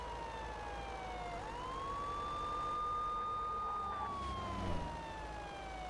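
A police siren in Euro Truck Simulator 2 wails in long rising and falling tones, steady and fairly clear over a low engine rumble.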